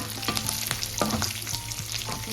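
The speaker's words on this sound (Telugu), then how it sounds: "కొద్దిగా చింతపండు కూడా ఫ్రై అయిందండి" Tamarind frying in a pan for raw tomato chutney, a steady close sizzle with scraping stirs and small spatula taps throughout, no voices.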